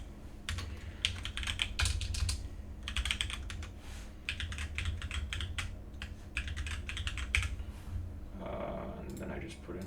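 A name typed on a computer keyboard in quick bursts of close key clicks separated by short pauses, with low background hum and a voice speaking near the end.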